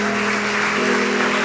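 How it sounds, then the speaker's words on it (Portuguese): A church congregation applauds during a worship service, a steady, loud wash of many hands clapping together with a faint sustained tone underneath. "dê uma forte salva de palmas para Jesus"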